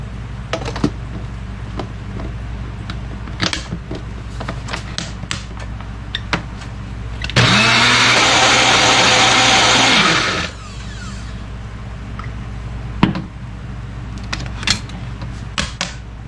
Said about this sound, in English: we're going to go ahead and blend this up until it becomes sauce